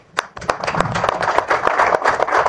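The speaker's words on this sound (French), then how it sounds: "Vous méritez donc, à juste titre, des ovations et applaudissements patriotiques." An audience at a French-language press briefing claps, with scattered hand claps quickly building into dense, steady applause from a nearby crowd.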